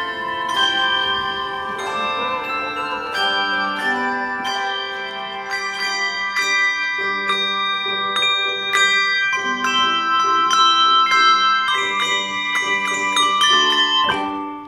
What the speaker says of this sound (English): we have some of the hand bells and hand chimes